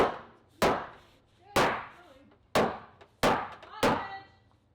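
A mallet strikes oak shutter planks six times at a steady, unhurried pace, each blow a sharp, solid knock with a short ringing decay.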